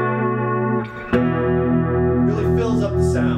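An electric guitar plays through a BBE Mind Bender chorus vibrato pedal. Sustained chords shimmer and waver, with a sharp pick attack near the middle and brighter strummed swells near the end. The playing is loud and clean, with no voices.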